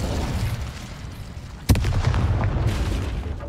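A sudden sharp boom bursts out midway over a rumbling background of effects from Hogwarts Legacy on PlayStation, followed by continued crackling and low rumble.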